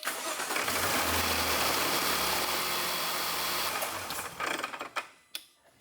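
A Jaguar XJ V8 engine, fresh from an oil change, idles in a steady, dense mid-range drone that carries on evenly for several seconds and then cuts off, leaving only a few light knocks.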